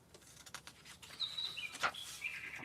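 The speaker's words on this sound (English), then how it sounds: "I hear you, bird." Small bird chirps, several short bright tweets in a loose irregular run, fairly close over a quiet indoor background.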